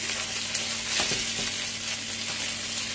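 Giant gnocchi fry and brown inside a Thermomix, giving an even close sizzle with a soft mechanical hum beneath and a few brief scraping stirs near the middle, no voices.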